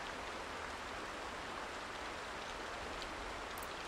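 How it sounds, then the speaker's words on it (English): Steady rainfall in a video game, a continuous soft hiss of drops falling on surfaces, even and unbroken throughout, fairly faint with no voices. "Damn, it's raining."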